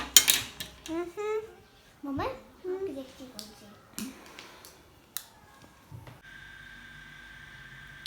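Spoons clink as children are handed them at home over leftover cake. Bright metallic taps and jingles come amid a child's chatter and adult voices, close and intermittent, before a steady tonal hum at the end.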